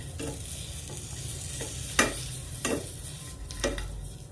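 Soft, subdued sizzling of mung beans and longganisa sausage cooking in a pan with a few sharp clinks and scrapes of stirring, close by, no voices.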